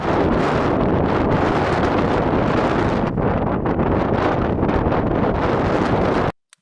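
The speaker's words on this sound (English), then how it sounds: "Yep, that's how windy it was." Strong wind roaring across a microphone at a beach where kite surfers are out, a loud, continuous gusty rush without talk that cuts off abruptly near the end.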